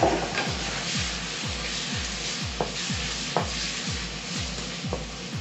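Onions sizzling in a frying pan for chicken fried rice, a steady hiss with regular scraping stir strokes about twice a second and a few sharp clinks, close up with no talking.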